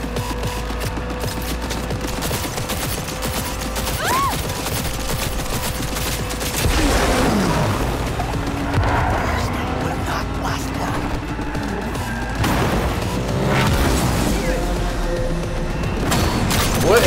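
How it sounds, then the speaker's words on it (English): Gunfire aimed at a bike in the video game CyberRunna, with repeated bursts of shots and crashing impacts over a steady game background, mixed with busy in-game noise. "Let me shoot the bike."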